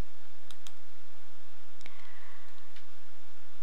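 A few sharp computer mouse clicks, a quick pair followed by a single click and a fainter one, close and dry over a faint background hum.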